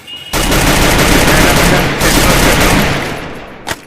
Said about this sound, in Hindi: तो मुझे प्लाज्मा गन की आवाज़ आई।